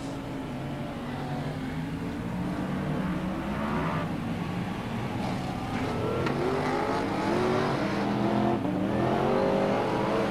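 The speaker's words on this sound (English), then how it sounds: "You can just hear the power getting down onto the ground with these big, powerful V8 stock cars." Several powerful V8 stock car engines roar and rev continuously on a dirt track at a 1999 Auckland race, rising and falling as cars race past close by, with a dense, gritty rumble throughout.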